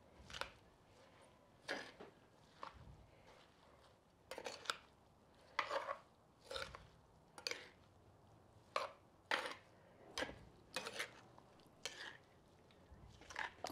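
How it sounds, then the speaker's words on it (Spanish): A spoon clinks and scrapes in a bowl of ceviche, irregular short knocks and stirring scrapes spread across the stretch, fairly close and quiet, with no talking. "Le voy a revolver."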